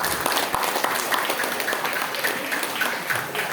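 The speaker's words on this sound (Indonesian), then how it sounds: "Tepuk tangan buat Pak Kahukul." Steady crowd applause at an Islamic New Year event at an Indonesian Islamic boarding school, a dense wash of many hands clapping without pause, moderately loud throughout.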